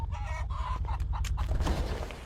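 Chickens cluck loudly and close by in quick, busy bursts over a low steady hum at a meat shop, with a rooster-like call rising near the middle.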